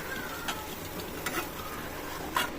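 Dosa batter cooking on a hot pan, a steady soft sizzle with a few faint scraping stirs, close and alone without talk.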